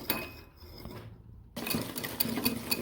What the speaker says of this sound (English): Okay, so I'm whisking it here